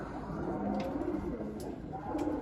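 Pigeons in a loft cooing, with soft, throaty, repeated coos layered over one another close by. A few faint chirps and background noise run underneath.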